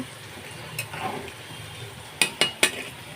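Sweet pumpkin bhaji cooking in a pan, a soft low sizzle underneath with a few quiet stirs, then three sharp metallic clinks of a utensil striking the pan in quick succession near the end.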